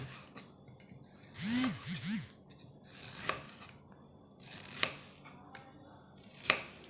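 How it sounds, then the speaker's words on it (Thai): A knife slices peeled ginger thinly on a board, steady soft repeated cuts and scraping at an unhurried pace, fairly close and fairly quiet. "ปอกเรียบร้อยแล้วเขาก็มาหั่นเลยจ้าหั่นบาง"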